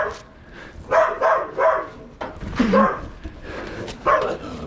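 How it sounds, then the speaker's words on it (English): A dog barks and yips in several short, loud bursts near an abandoned building in Ukraine, with brief whimpering between barks and faint voices in the background. "Puppy don't look friendly."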